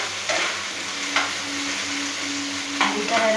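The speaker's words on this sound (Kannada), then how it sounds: "ಇದ್ರ ಜೊತೆ ಸೈಡ್ ಡಿಶ್ ಆಗಿ ಬೆಂಡೆಕಾಯಿ ಫ್ರೈ ಮಾಡ್ತಾಯಿದ್ದೀವಿ ನಾವು." Okra frying in hot oil, a steady close sizzle with bubbling crackle and a few brief stirring scrapes, no voices.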